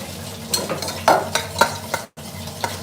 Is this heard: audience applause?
no